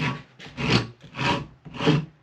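Sandpaper rubbing a wooden axe handle in three long, steady back-and-forth strokes, a close, moderately loud rasping friction with short pauses between passes.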